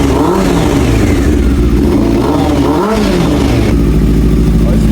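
A Honda CBR600 F3 motorcycle engine idles and warms up close by, loud and steady throughout, with a brief rise and fall in revs partway through.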